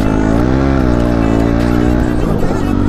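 A KTM Duke 390 motorcycle engine and exhaust rev loudly up close, a sustained harmonic drone rising and falling in pitch over about three seconds, with no talking.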